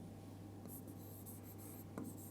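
A pen scratches on paper while a geometry math solution is written out, soft intermittent strokes close by over a steady low electrical hum.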